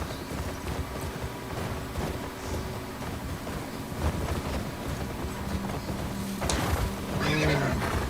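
In a video game, a horse's hooves clip-clop steadily over a windy background, then the horse lets out a loud whinny near the end.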